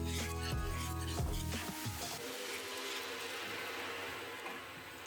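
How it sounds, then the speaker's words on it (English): Mochi dough stirred in a sticky pan with a wooden spoon, giving a steady, close scraping and rubbing texture under a constant background hum, with no talking. "Keep stirring."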